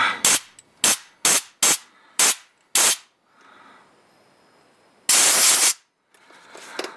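Short sharp bursts of compressed air cleaning a 1986 Jeep XJ 2.5L flywheel, six quick blasts in a row, then a pause and one longer hissing blast.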